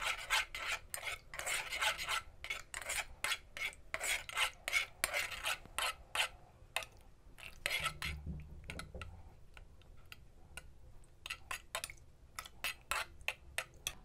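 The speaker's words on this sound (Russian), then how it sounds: "И размешиваем хорошенечко. Хорошо, чтобы желатин растворился." Gelatin mixture for gesso being stirred in a container, a quick rhythmic scraping and rasping that comes in steady strokes, slows and then picks up again, close and clear with no talk.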